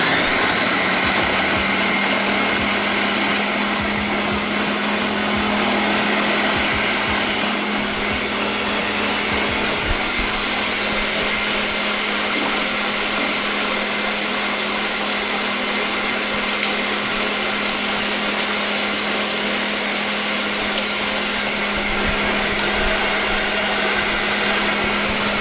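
A kitchen appliance whirs steadily on its mix setting while mashing squash, a loud continuous motor drone that holds for the whole stretch without pause or speech.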